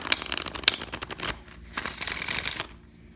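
A deck of tarot cards is shuffled close by, a quick riffling flutter of card edges that runs for a few seconds and then stops.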